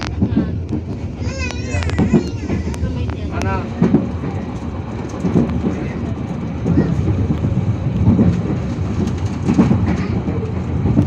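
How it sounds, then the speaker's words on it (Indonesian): The KA Bengawan train departs Krupuk station in Tegal, its wheels clattering and rumbling steadily while voices, including children's, talk and call out nearby over the train noise. "KA Bengawan kembali diberangkatkan dari stasiun Krupuk Kabupaten Tegal jam 10:29 menit"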